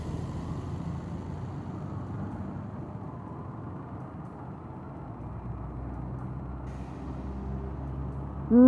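A ten-wheel truck rolls past, its steady engine and road rumble filling the scene at moderate loudness, ending with a sudden loud hiss that suggests an air-brake release, no voices.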